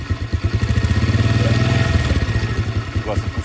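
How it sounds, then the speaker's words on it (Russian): G-Moto Cross X Pro motorcycle engine revving in first gear, a close, loud, pulsing mid-pitched exhaust that rises under throttle and then eases back over a few seconds, with someone speaking over it. "Включаем первую передачу. Даем газ."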